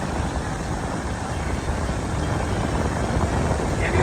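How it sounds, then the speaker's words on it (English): An electric fan whirs steadily and close by, drying out a phone's charging port after a soaking on a water ride. It makes a dense, unbroken rushing hum for the whole stretch, with no talk over it. "I've got an electric fan here trying to dry it out"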